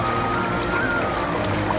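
Water running in a stream, a steady broadband rush and trickle continuing evenly throughout with no talk over it.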